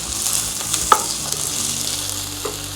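Garlic hits hot onions in a pot for a one-pot goat chop and basmati rice pulao, giving a close, steady sizzle with a couple of small stirring knocks and no speech.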